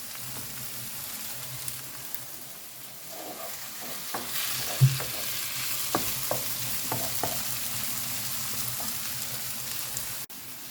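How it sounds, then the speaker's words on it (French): Garlic, onion and shallots fry in hot oil for a pepper, courgette and chorizo sauté, a continuous gentle sizzle with scattered small pops and occasional stirring clicks. "On attend que l'huile soit chaude et après on rajoute les condiments,"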